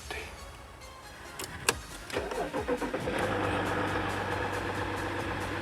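An Audi car engine cranks over with a few rapid starter bursts, then catches and settles into a steady, fairly loud idle with a low hum, close by and with no talking.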